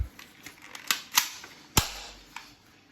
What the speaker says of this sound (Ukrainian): робимо постріл.